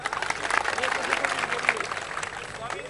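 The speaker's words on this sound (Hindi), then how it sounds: "इस बेटे के लिए एक बार जोरदार तालियां।" A crowd claps at a rally-style public gathering in Uttar Pradesh, a brief burst of dense applause with a murmur of voices mixed in, steady and moderately close.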